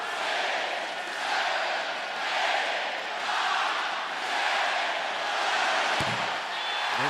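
Basketball arena fans chanting together during an NBA playoff game between the Milwaukee Bucks and Indiana Pacers, a dense roaring crowd swelling in rhythmic waves about once a second, with a sharp slam near the end.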